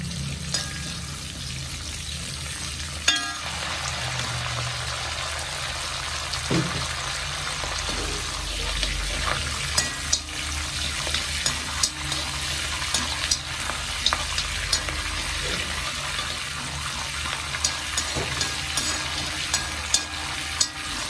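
Mustard seeds and curry leaves splutter in hot oil for a vendakka theeyal, with a continuous close sizzle dotted by frequent sharp pops and crackles and the odd stir of a spoon.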